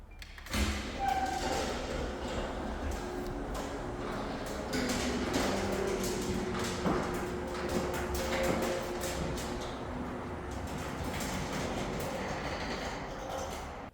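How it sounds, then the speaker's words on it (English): A residential garage door in a newly built home rolls open with a steady, continuous mechanical rumble and rattle, punctuated by a few thumps, running loud and close for the whole stretch with no talk. "It's the garage door test."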